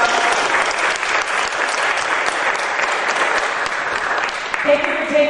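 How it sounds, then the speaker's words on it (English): An audience at a provincial all-candidates debate gives the candidates a loud, continuous round of applause that fills the hall, with a voice starting to speak over the tail end as it thins. "I think we owe everybody up here a big round of applause for coming."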